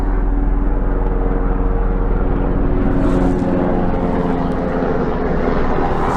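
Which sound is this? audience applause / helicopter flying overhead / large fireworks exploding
helicopter flying overhead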